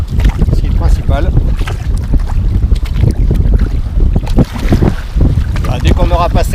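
Wind gusts hard while sea kayaking off the Greenland coast, a loud continuous rush against the microphone with water noise, and people talking over it.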